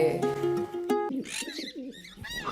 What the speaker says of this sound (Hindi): ये वही कबूतर है जिसको गोली लगी थी।